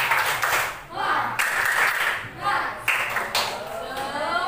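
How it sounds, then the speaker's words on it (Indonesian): A class of children in a Christian religion lesson claps in rhythmic bursts of a cheer, several loud clusters of hand claps near at hand, with children's voices and a teacher talking over and between them. "kita tepuk semangat dulu."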